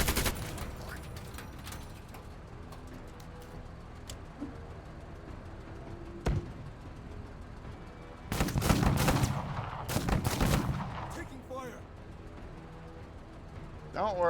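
Gunfire in the video game Menace, scattered single shots early, then a dense burst of rapid firing and loud blasts in the latter half, with voices talking in between.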